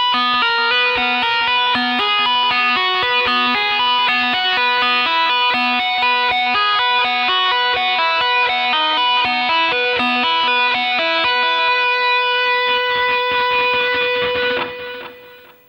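An electric guitar with distortion plays a fast tapping phrase, with rapid rhythmic repeated notes that end on a sustained note ringing out and fading.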